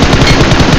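Rapid automatic gunfire from enemies shooting at the player in BGMI, a loud, dense burst of close shots packed into under a second with no talk.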